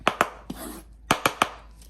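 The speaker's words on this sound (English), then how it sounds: "So I'm gonna finish chopping everything up and I'm gonna come back." A knife chops peppers on a cutting board in quick sharp knocks, a few strokes, a pause, then three more.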